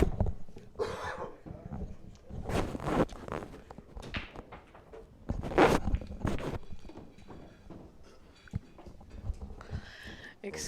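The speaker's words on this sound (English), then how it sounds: "and has been kind of coughing." Dry, throaty coughs from a commentator at a 2015 9-ball pro classic pool match come in several close, fairly loud bursts, with shuffling and knocking noises in between.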